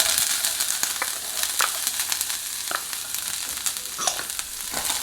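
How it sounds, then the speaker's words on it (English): Chopped asparagus frying in bacon fat, a dense bright sizzle throughout with scattered crackles and spatters, close and loud with no voices. "Next, we'll add our chopped asparagus."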